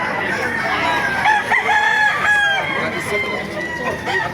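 A rooster crows loudly at a chicken market in Baliuag, Bulacan, nearby chickens cluck and squawk around it, and faint voices murmur in the background.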